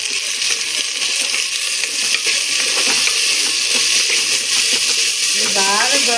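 Ivy gourd pieces sizzle and fry steadily in hot oil in a home kitchen, a loud continuous hiss with small crackles throughout.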